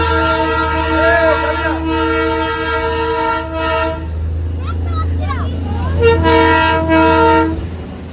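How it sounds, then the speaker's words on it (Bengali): A Darjeeling toy train horn blows in long, loud blasts near Ghum, pausing and sounding again over a low rumbling engine, with people talking and shouting nearby. "টয় ট্রেন আসছে তাই সবাই মিলে রেডি থাকছি"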